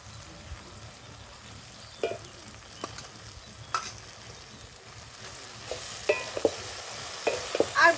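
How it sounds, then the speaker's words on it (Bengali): Jujube berries fry with salt and turmeric for a pickle, giving a steady close sizzle with scattered clinks and scrapes of stirring that grow busier toward the end. "খুব ভালো করে কিন্তু কুলটা ভেজে নিতে হবে, কুলের গায়ে যেন জল না থাকে।"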